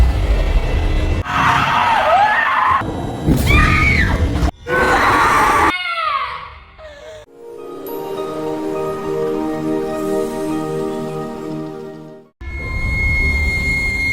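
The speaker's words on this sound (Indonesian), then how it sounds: "tengah sedang teriak ketakutan karena bermimpi buruk" A girl screams in terror from a nightmare in a film scene, loud, strained cries in several bursts, followed by a sustained tonal wail and another loud outburst.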